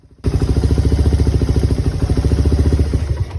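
A Suzuki Raider motorcycle with a 250cc setup and a freshly tuned carburetor starts up and runs at a steady idle. The close, loud engine throbs in an even, rapid pulse with no talking.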